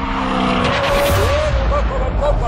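Tires squeal loudly as a car understeers through a tight corner on a race circuit, a close wavering screech laid over strong engine roar.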